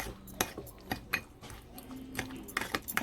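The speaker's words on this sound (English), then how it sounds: "I'm gonna take 1 spoonful, and I'm gonna mix it all together." A spoon stirs a spoonful of honey into barbecue garlic sauce for pork shoulder, giving soft intermittent clinks and scrapes against the bowl, close and fairly quiet, with no talking.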